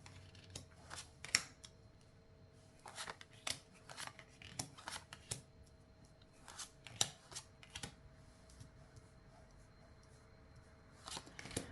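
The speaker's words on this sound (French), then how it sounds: "C'est parti, on pose les 5 cartes. Enfin, les 11 cartes, pardon." Tarot cards are laid out one by one on a table, a quiet series of sharp card snaps and soft slides in irregular bursts, with no talking.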